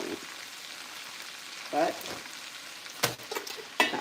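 Food sizzles steadily in a pan at a low, constant crackle, with a few clattering scrapes of stirring and a brief spoken word.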